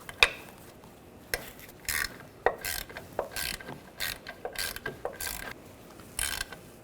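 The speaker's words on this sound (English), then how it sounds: "I'm going to use a 10mm socket." A ratchet fitted with a 10mm socket loosens a nut during rear lower ball joint work on a 2006-2010 BMW 550i, giving short, sharp bursts of clicking separated by brief pauses, close and clear.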